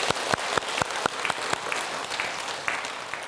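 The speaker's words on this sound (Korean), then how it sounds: "박수 한번 쳐주자고요." Rhythmic group clapping from an audience at a Buddhist temple dharma talk, steady even beats of about three to four claps per second, near and fairly loud, with no voices over it.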